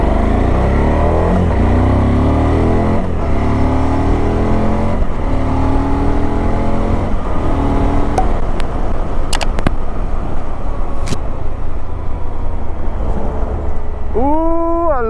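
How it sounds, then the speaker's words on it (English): A V-twin motorcycle engine rides off, its deep, loud throb rising through several gear changes as it pulls away, then settling into a steady drone, with no talking. "Love that V-twin."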